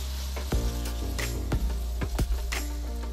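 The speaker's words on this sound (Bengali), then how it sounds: "আমড়াগুলি সামান্য একটু তেলে নেড়ে তাতে দিয়ে দেব হলুদ" Peeled, cut hog plum pieces are stirred in a little oil with a soft sizzle and several distinct scraping stirs of a spatula against the pan, close and fairly quiet, with a steady low hum underneath.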